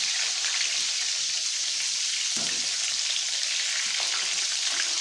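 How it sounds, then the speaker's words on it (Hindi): Chicken frying in oil, a loud, steady hiss packed with fine crackles, close and unbroken, with a soft thump midway and no talk. "इसमें मैंने ऑयल डाल दिया है, ठीक है, और इसको मैं फ्राई कर लेती हूँ।"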